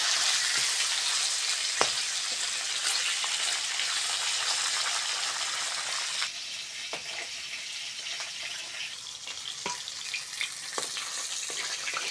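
Chopped onion and green chili hit the oil left over from frying tilapia, sizzling loudly for about six seconds before settling into a softer crackle with a few stirring clicks.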